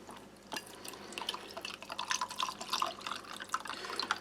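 Cold water pours into an average-sized drinking glass to mix a fine ration powder, a soft trickling splash with drip-like spatters building gradually, close and fairly quiet.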